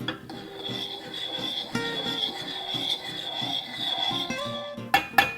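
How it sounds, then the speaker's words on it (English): Powdered green tea blended with mint being stirred into oil in a pan, with scraping, rubbing strokes of a utensil against the pan in an uneven rhythm, a steady high hiss underneath and a couple of sharp knocks near the end. "So we're just going to add that to the oil and then stir for 3 minutes."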